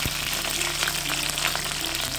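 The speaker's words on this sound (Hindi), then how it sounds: "ये सारी वेजिटेबल्स हमने सॉटे कर लेनी है।" Vegetables sautéing in very hot oil in a kadai for veg chow mein give off a loud, steady, close sizzle and frying hiss that runs unbroken throughout.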